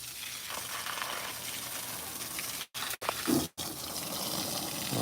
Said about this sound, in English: Let's give this tree some water.